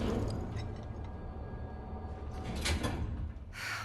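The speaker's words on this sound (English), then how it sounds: "Doors closing." Elevator doors sliding shut inside the Shinra Building in Final Fantasy VII Remake, a steady mechanical slide over a low rumbling hum, with a couple of brief bright swishes near the end.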